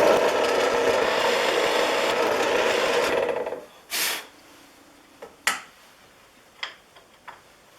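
A drill bores a hole into wood in a workshop with a steady rasping whir for about three seconds, then stops, followed by a few scattered knocks and clicks as the piece is handled.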